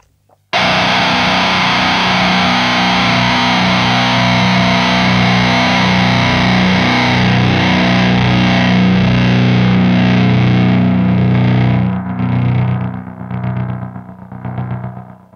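An electric guitar played through a Klirrton Schnauze distortion pedal with a noise gate holds one loud, thick, heavily distorted chord that sustains for about eleven seconds. It then breaks up and pulses as it decays.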